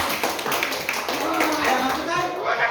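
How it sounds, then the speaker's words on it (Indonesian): A classroom of children claps for a group, brisk scattered applause lasting a few seconds, with children's voices mixed in. "Tepuk tangan untuk kelompok 3"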